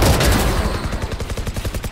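Pistol in a first-person shooter firing spread bursts of three bullets, heard as a dense, loud volley of rapid repeated shots settling into a steady pulsing rattle, with no talk.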